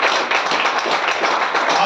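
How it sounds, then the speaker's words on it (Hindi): Audience at a product presentation clapping steadily, a dense wash of many hands close and fairly loud, with no talk over it. "Yes, इसके लिए ताली बजा सकते हो आप।"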